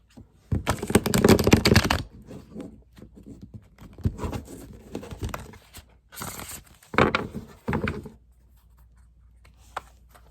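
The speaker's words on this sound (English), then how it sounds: "Just going to do a few shuffles here, then we're going to lay the cards out" Rapid riffling bursts of a deck of cards being shuffled for a card reading, several rounds separated by short pauses, close and fairly loud.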